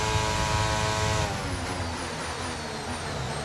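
A Mercedes Formula 1 car's engine in the racing video game F1 23 howls at high revs, then drops away as the car slows, leaving whining gear and engine tones that step down in pitch.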